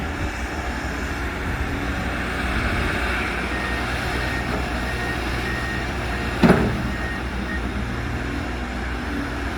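A dump truck pulls away from a digging site where ground is being excavated to form a lake, its engine a steady, moderately distant rumble throughout, with one brief knock partway through and no talking.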